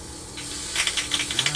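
A nearly empty aerosol spray paint can hisses onto a 1/25 scale AMT 2021 Ford Bronco model kit, starting as a steady hiss and breaking into short sputtering spurts as the can runs dry.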